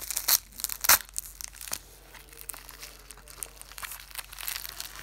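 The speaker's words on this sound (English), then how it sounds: "So just gonna rip that open." Plastic packaging on a LEGO Toy Story 3 set is ripped open with two sharp tearing bursts near the start, followed by softer crinkling and rustling up close.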